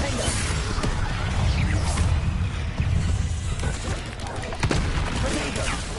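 Rapid bursts of combat spells in Hogwarts Legacy, including the Confringo fire spell, dense loud blasts, whooshes and crashes layered over continuous game noise with a voice shouting over it.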